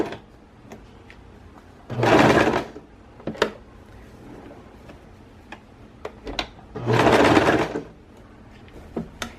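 A sewing machine stitching gathered fabric runs in two short loud bursts of about a second each, separated by quieter ticks and clicks of handling nearby.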